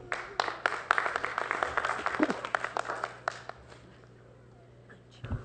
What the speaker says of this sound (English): Let me remind you that we don't clap in council chambers